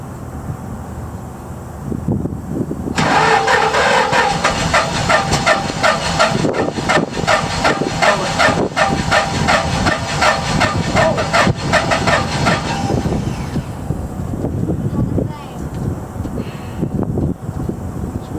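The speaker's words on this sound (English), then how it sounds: "Got a blown engine, dude." A car with a blown engine cranks and sputters into a rough, loud, rattling run for about ten seconds, then cuts out, leaving outdoor wind noise.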